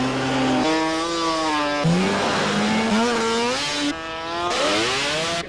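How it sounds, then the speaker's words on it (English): Snowmobiles drag racing on a frozen, ice-covered lake in sub-zero cold, their engines screaming loud and continuous, rising in pitch as each sled accelerates, then dropping and climbing again through several surges. "Perfect conditions to go drag racing snowmobile."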